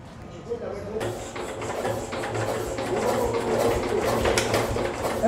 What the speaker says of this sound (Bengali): এই মেশিনটা স্টার্ট দেন দেখি।